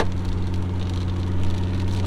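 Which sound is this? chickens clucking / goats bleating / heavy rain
heavy rain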